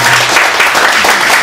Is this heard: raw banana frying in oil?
no